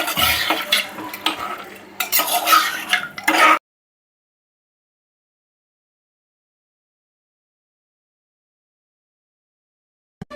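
A pasta mixture is stirred in a pan in a home kitchen, with a spoon scraping and clinking against the cookware amid a light sizzle for a few seconds before the sound cuts to silence.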